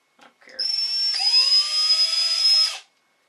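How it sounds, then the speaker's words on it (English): Power drill driving screws into an RC crawler axle during an SCX10 build whirs loud and close in one steady, high-pitched run of about two seconds, after a couple of short clicks and a brief starting blip. "Get the good old drill out."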